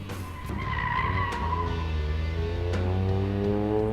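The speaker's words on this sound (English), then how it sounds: "John drifting a little early right there before he has to, and doing a nice job of it" Car drifting through a corner in an all-star drifting event, tires skidding with a sustained squeal over a loud, rising engine roar, close and continuous, no talking.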